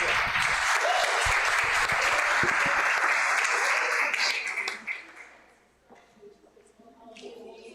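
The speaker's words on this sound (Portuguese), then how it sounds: "E as palmas engrandecem o nome do nosso Deus." A church congregation applauds loudly for several seconds, with dense steady clapping that fades out, leaving only faint room noise and a few scattered sounds.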